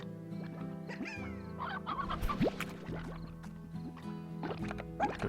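Chickens cluck and squawk repeatedly inside the farming game Slime Rancher, layered over steady game music and sound effects, with several overlapping bird calls rising and falling.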